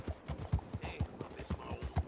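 Horse hooves clip-clop at a steady walking pace in Red Dead Redemption 2, with evenly spaced, fairly close hoofbeats and no talking over them.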